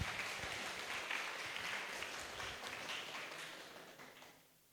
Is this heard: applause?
yes